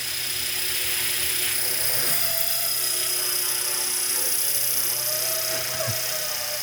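An RC Blackhawk helicopter's rotor spools up close by with a loud, steady high-pitched whine and buzzing drone, sustained throughout without any talk.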